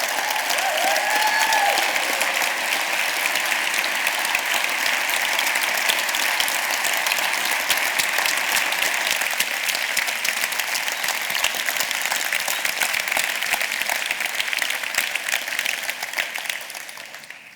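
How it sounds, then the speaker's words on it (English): Sustained applause from a conference audience at an innovation festival closing session as four people stand, steady and dense for about seventeen seconds before tapering off at the end. "get the applause from everybody"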